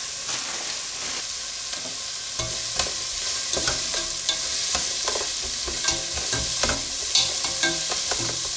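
Frozen onions sizzle and fry in a pan for a chicken curry, a steady close hiss broken by repeated scraping stirs of a utensil, with no talking.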